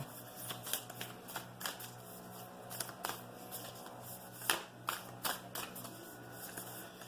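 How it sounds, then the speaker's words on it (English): Oracle cards being shuffled and drawn by hand, a soft, steady run of close papery riffles and flicks with occasional sharper snaps, quiet and alone. "Let's draw the Sacred Traveler Oracle card"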